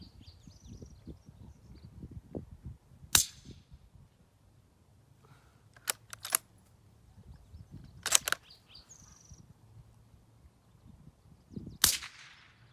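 A suppressed bolt-action .223 rifle firing subsonic loads outdoors, four sharp muted cracks spaced a few seconds apart over a quiet background with faint birdsong.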